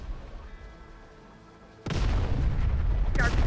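Artillery fire in the video game Terminator: Dark Fate Defiance, a quiet rumbling battlefield suddenly broken by a heavy, loud blast that leaves a sustained roaring wash, then another sharp impact near the end.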